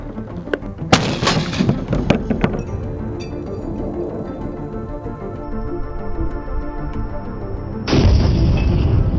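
Gunshots strike a level 3 ballistic armor plate at an outdoor test, with a few sharp, loud bangs in the first two seconds over a continuous tonal background that carries on to the end.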